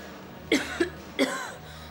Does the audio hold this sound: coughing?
yes